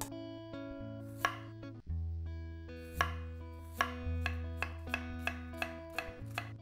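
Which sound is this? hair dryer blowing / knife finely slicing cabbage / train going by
knife finely slicing cabbage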